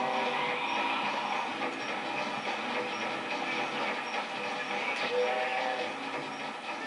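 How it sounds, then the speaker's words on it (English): Train running in the Sonic Adventure 2 video game, a steady rumbling rail noise with a faint clatter that holds evenly for several seconds and carries no speech over it. "Is that train running on air?"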